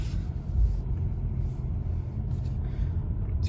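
A new car cruises smoothly and quietly, with only a low, steady road rumble and faint engine hum from inside the cabin.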